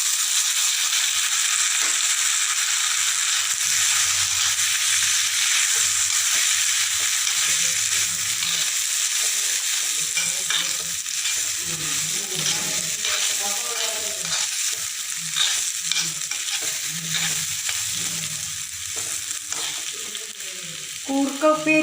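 Boiled koorka (Chinese potato) sizzles in a pan with mustard seeds as it is stir-fried. A steady close frying hiss runs throughout, with scraping and clinking from the stirring.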